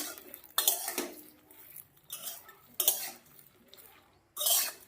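Jujube (kul) pickle being stirred in a pan over low gas, with scraping and clinking of a spoon against the pan in several separate bursts, fairly soft and close, no talking.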